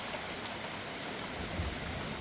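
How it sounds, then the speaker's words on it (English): Heavy rain pours down steadily outdoors during an axle and locking rear differential job on a Hummer H3, a dense, even hiss with no voices. "It's raining quite a bit."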